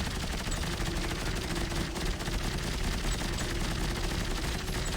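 Dense, continuous gunfire in the sci-fi horror shooter Dead Space 3, a steady rapid crackle of shots packed tightly together at constant loudness throughout.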